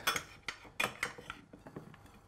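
Ingredients are stirred in a bowl during cooking for a pork shoulder dish, heard as a quick series of close, rhythmic clinks and scrapes of utensil on bowl that fade toward the end.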